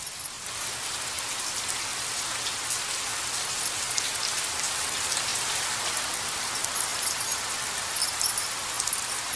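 Steady rain pours down in the monsoon, a dense continuous hiss of drops striking surfaces close by, unbroken for the whole stretch with no voices over it.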